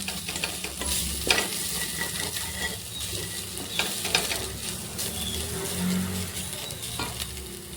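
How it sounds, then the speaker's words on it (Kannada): Spices fry in a pan and are stirred steadily, a close, even crackling sizzle with soft scraping strokes running throughout and no voices. "ಫ್ರೈ ಆಗ್ತಿದೆ."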